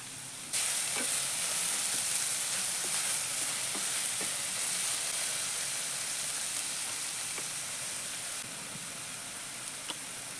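Onions and chopped dill greens fry in a pan for a palya, making a steady, even sizzle and hiss that runs almost the whole time, with occasional soft stirring scrapes and no talk.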